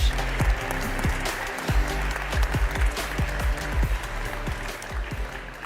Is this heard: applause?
yes